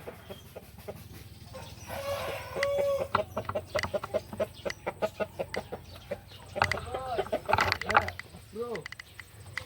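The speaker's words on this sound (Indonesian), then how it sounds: "Beliau ternak ayam." Village chickens on an Indonesian poultry farm cluck in rapid repeated calls, close and lively, with occasional squawks and a person talking briefly among them.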